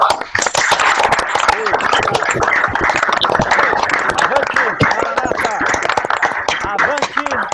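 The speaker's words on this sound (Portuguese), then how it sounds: "uma salva de palmas um para o outro aqui" Group of workers at a Maranatha workplace safety meeting applauding one another, loud, close, rapid clapping from many hands sustained without a break, with voices mixed in under the claps.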